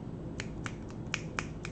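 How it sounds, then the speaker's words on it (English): Six crisp finger snaps ring out at a loose, uneven rhythm, close and clear over a faint room background with no speech. "Snapping my fingers."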